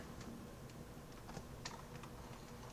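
Rapid typing on a computer keyboard while entering a hostname on an Ubuntu 16.04 desktop, a steady run of soft, close key clicks with a few sharper taps, no talk.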